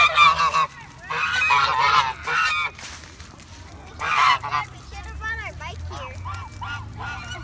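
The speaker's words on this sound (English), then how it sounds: "This place has like so many duck, gooses" Geese at a lake honk loudly and repeatedly in overlapping bursts close by, with shorter honks and calls continuing through the rest of the clip.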